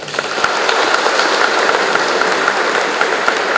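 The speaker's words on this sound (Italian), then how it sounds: "Facciamogli un applauso." An audience at a memorial gathering in Canicattì applauds steadily, a close, even wash of many hands clapping with a few sharper claps standing out, and no voices.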